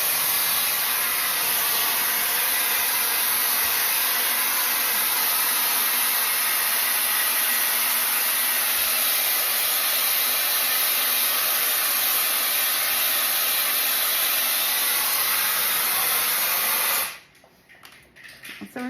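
A Fanttik Solo EROS A10 APEX hair multi styler runs with a continuous airy whoosh and hiss for about seventeen seconds, then cuts off abruptly.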